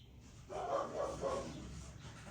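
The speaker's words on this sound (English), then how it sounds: "Oh, the mail must be here. Dog's going crazy." A dog barks excitedly indoors as mail arrives, a burst of several loud, close barks in quick succession before trailing off into quieter room noise.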